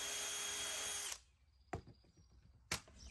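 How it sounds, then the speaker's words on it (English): A power drill bores a pocket hole through 3/4 inch plywood with a Kreg jig, a loud whirring burst lasting about a second, followed by two sharp knocks as the work shifts. "that allows you to drill this nice little hole, and it just gives a little pre-drill spot out of the end grain"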